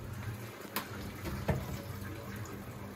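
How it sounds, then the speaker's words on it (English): Water from an aquarium overflow drain pours steadily into the sump of a new 450-gallon tank, a continuous close rushing flow with a couple of brief splashes. "You hear that drain? It's overflowing."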